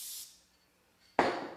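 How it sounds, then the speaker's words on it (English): Two short hissing bursts of spray adhesive in a t-shirt printing workshop, a brief one at the start and a louder, longer one after a pause, with no talking. "Spray a little adhesive."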